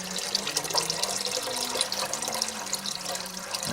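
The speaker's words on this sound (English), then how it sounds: "Let's add some more water to that water pot back there." Water poured from a pitcher into a cooking pot for lasagna noodles, a continuous splashing trickle whose pitch shifts as the pot fills, close and steady with no speech.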